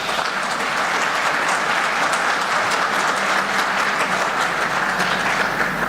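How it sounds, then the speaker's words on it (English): Steady, dense applause from a large audience fills the space, many hands clapping at once with no break. "A big round of applause,"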